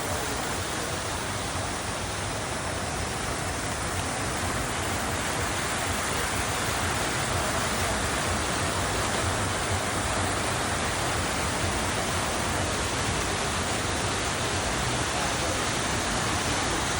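Steady broadband rush of a large outdoor water fountain at the Petronas Twin Towers at night, a continuous even splashing wash that holds at constant loudness throughout with no talk over it.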